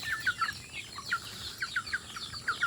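Short gamefowl chicken clucks and chirpy calls repeat in quick, uneven bursts over a steady background hum, fairly close and moderately loud.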